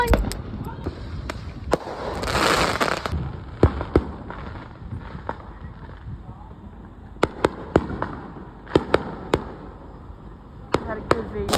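Strobe fireworks burst in sharp crackling pops at irregular intervals, some in quick clusters, with a rushing hiss early on and voices talking underneath, at a neighborhood fireworks show.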